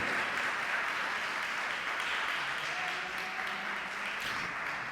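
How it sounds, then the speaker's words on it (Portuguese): Church congregation applauding steadily and loudly throughout, a dense wash of clapping with a faint voice briefly audible beneath it. "Pode bater palmas para Ele."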